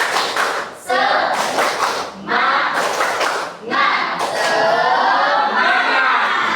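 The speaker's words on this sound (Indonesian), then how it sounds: "1, 2, 3, tepuk semangat." Students in an Indonesian school classroom doing a rhythmic spirit clap, several short loud bursts of patterned clapping and group voices separated by brief gaps.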